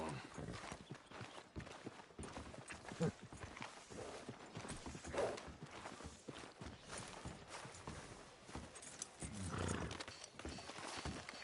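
Steady clip-clop of horse hooves at a walking pace in the video game Red Dead Redemption, fairly close, with a brief whinny and background murmur of talk.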